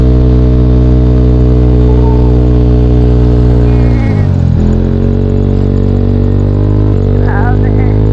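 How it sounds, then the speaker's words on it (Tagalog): A motorcycle engine revs hard while struggling to climb a steep uphill road on a North Luzon mountain ride, a loud sustained drone that dips and strains before picking up again. "ayaw na umangat na motor ko"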